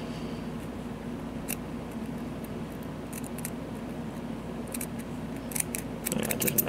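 Scissors snipping Japanese cotton wick for a vape coil build, scattered sharp close clicks clustered in small bursts over a soft steady room hum, with light handling rustle toward the end and no voices.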